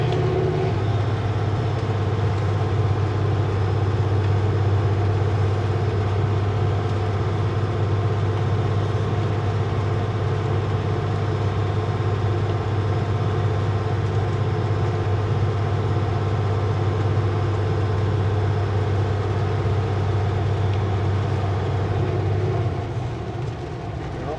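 A vehicle with an automatic transmission cruising on a winter road, its engine a loud, constant low drone that runs almost unbroken for the whole stretch and eases off only at the very end.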